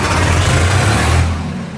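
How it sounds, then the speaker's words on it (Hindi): A Swaraj 100HP tractor's diesel engine rumbles loudly and steadily just after starting, a deep close idle that eases slightly toward the end. "तो एक बार ट्रैक्टर ने स्टार्ट कर ला,"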